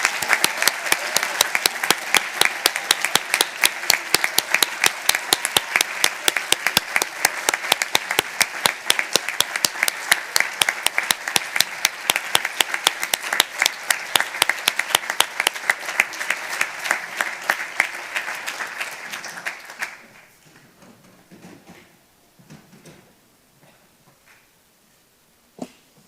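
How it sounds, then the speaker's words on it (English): Loud, sustained applause from a large audience at a model UN closing ceremony, honoring ICJ judges and advocates, dense clapping for about twenty seconds before breaking off into scattered claps and quiet room noise. "judges and advocates of the ICJ, please rise. This is your applause"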